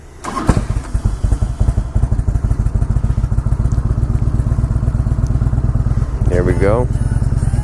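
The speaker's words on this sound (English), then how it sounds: "This is actually the Evo motor, and people love this engine. And this one's fuel injected." A 20-year-old fuel-injected Harley-Davidson Evo motorcycle engine starts with a thump and settles into a loud, close, lumpy idle of rapid regular pulses; someone speaks briefly and another revving whine rises near the end.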